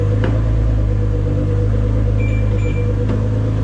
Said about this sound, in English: Let's go ahead and get the BMW started up.